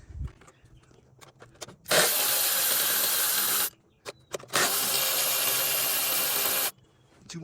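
A power tool drives out the 10mm bolts holding the fuel injectors on a 2018 Mustang GT in two long, loud, steady whirring runs, with quieter clicks and handling noises in the pauses before and after.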